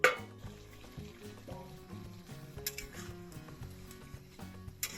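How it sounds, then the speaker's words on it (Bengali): Marinated chicken sizzles quietly in a covered wok as a spoon stirs and scrapes the bottom, with a few light clinks and taps over a soft, steady frying sound. "এবার আমি ঢাকাটা তুলে একটু তলাটা ঘেঁটে দেবো যাতে লেগে না যায়।"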